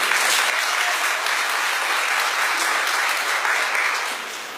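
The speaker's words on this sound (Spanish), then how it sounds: "Un aplauso por eso." Sustained applause from a mostly female audience at a community meeting on natural hazards, dense and steady for several seconds before thinning slightly toward the end.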